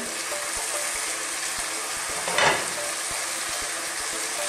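Fried fish and bitter melon sizzle in a pan with a steady, even crackle, close by, with one brief louder scrape of stirring partway through and no talking.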